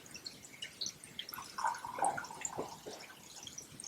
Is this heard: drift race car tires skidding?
no